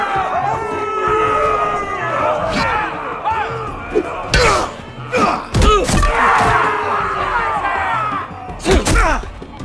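Arena crowd in the Game of Thrones video game cheering and roaring in a sustained wash, broken by several loud thuds and slams, with voices shouting over the din.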